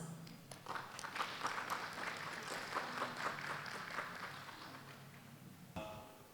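An audience at an academic plenary session claps to welcome the session chair, producing a steady, moderately distant patter of applause that fades before a brief bump of room noise at the end.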